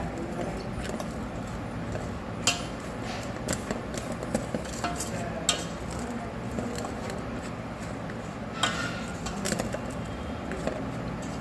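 Mango pickle ingredients are mixed by hand or spoon in a vessel, giving soft, irregular clinks and scrapes over a low steady background hum, fairly quiet.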